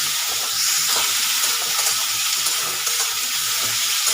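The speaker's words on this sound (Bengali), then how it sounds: "একটু ভাজা ভাজা করে নেবো খুব বেশি না একটু নাড়াচাড়া করে নেবো" Tangra fish chorchori with onion, potato, tomato and green chillies sizzles steadily in a pan while being stirred, a dense close frying hiss with intermittent spoon scrapes and no voices.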